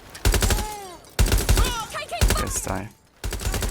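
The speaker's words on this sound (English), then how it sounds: "Shots fired." Bursts of gunfire crack in the Watch Dogs: Legion video game, several loud rapid volleys separated by short gaps, mixed with in-game voices speaking.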